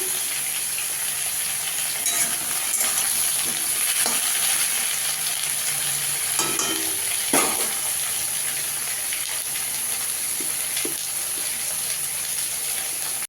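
Ridge gourd sizzles steadily in hot oil with green chillies while being stirred in the pan, a continuous frying hiss with a few sharper clatters from the spatula, loud and close throughout with no talk.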